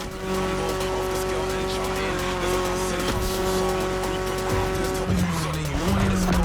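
BMW E30 engine droning steadily in The Crew Motorfest, a sustained tone with tire squeal and a gear shift near the end, while a voice narrates over it.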